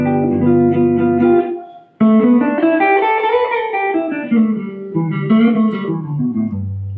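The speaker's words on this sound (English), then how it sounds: "If I played a major pentatonic against that dominant 7 chord," Electric guitar playing a major pentatonic melody over a dominant seventh chord, sustained chord tones under a bending single-note line, loud and close with a brief drop before the phrase resumes.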